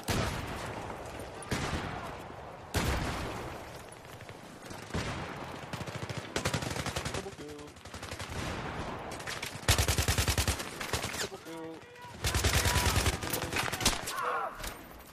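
Gunfire from a Battlefield 3 team deathmatch on Wake Island, with repeated automatic bursts and scattered shots spread across the stretch, some close and loud, with occasional talk between.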